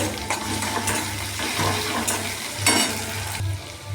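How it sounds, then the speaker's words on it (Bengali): Browned onions and ginger paste fry in hot oil for a lentil dish, giving a busy crackling sizzle with intermittent stirring scrapes, close and fairly loud. "পেঁয়াজগুলো লাল করে ভাজা হয়ে গেছে, দিয়ে দেবো আদা বাটা। এটা একটু ভালো করে ভেজে"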